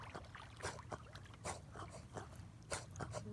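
A dog laps water at a lake during a fishing trip, a faint, soft, rhythmic slurping and splashing repeated every half second or so, heard from close by in otherwise quiet surroundings.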